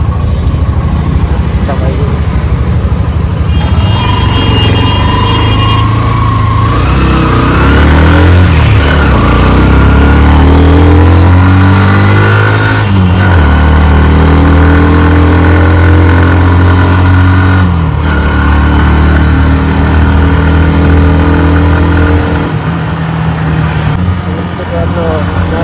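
A motorcycle engine runs on a ghat road, idling and revving with rising and falling pitch, loud and close, with a voice speaking over it at times.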